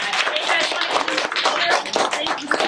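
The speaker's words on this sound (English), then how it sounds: "Let's give her another round of applause." Lively applause from a crowd at a Teacher of the Year award presentation, loud and continuous, with some voices mixed in.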